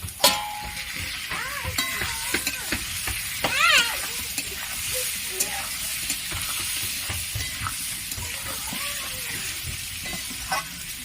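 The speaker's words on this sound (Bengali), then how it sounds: "একটু ভালো করে ভেজে নেব।" Pointed gourd and spices sizzle in a hot pan while being stirred, with scraping and clattering utensil sounds over the steady frying hiss, and a voice faintly in the background.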